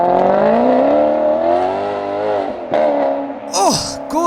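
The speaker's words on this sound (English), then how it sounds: "the Maserati GranTurismo is easily one of the best sounding cars ever made." A Maserati GranTurismo engine in Forza Horizon 5 revs loud and close with a rich, steady harmonic drone, dipping briefly before two sharp throttle blips near the end, one with a bright squeal.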